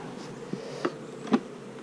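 A fattening honeybee colony drones at its hive, a steady close buzz with a couple of brief louder passes as single bees fly near, and no talking.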